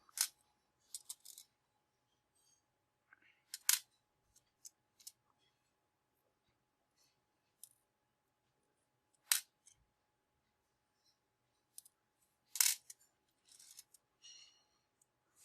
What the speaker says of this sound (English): set the spring and screw apart from the washer. So put washers on one side and the screw and spring on the other side